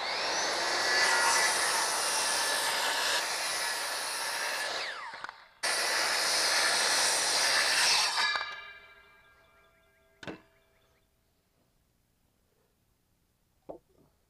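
A saw cuts steadily across the rough end of a sawmill lumber board, squaring it, for about eight seconds with one short pause. A couple of sharp knocks of wood follow in near silence.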